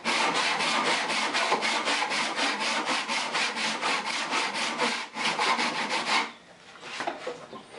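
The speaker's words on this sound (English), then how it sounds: "And just saw away." A hand saw cuts a curve into wood while a stool seat is carved out by hand, rasping in steady, rapid back-and-forth strokes close to the mic for about six seconds, then stopping, followed by quieter rustling.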